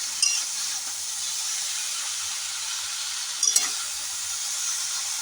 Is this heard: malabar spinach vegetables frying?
yes